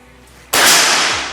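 A single sharp air rifle shot, a loud close crack with a brief decaying tail, standing alone.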